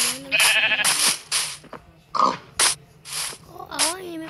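Sheep bleating in the Minecraft video game, several short wavering bleats spread through the clip, fairly close and clear.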